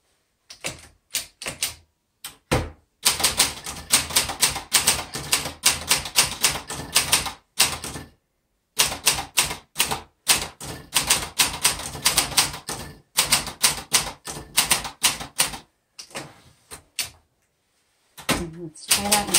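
Rapid bursts of keystrokes on a 1962 Olympia SF Deluxe manual typewriter, loud and close, clattering in quick runs broken by short pauses and occasional carriage sounds.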